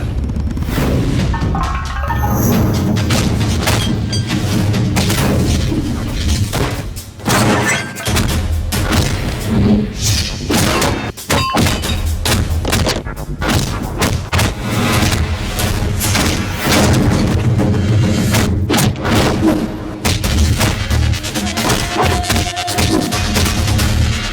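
Action movie fight scene with heavy punches and blows landing, a dense run of loud thuds, smashes and crashes over a driving music score.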